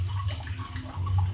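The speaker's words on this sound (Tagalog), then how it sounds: "Mahina ang tubig namin pag gantong umaga." A weak stream of tap water runs steadily from a faucet in the morning, a soft continuous splash heard close by with no talk.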